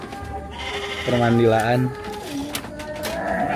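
A goat lets out one wavering, quavering bleat at close range while people chat nearby, their voices running before and after the call.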